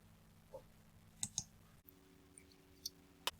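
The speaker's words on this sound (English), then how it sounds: "click Save and Next." Computer mouse clicks on a quiet desk, a handful of sharp, isolated clicks spaced irregularly over a low background hum.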